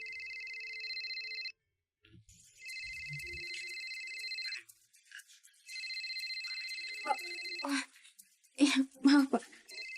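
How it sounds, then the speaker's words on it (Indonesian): A phone rings with a repeated electronic ringtone in steady bursts, loud and near, broken by short gaps as people speak briefly between the rings. "Kayaknya ada yang telepon."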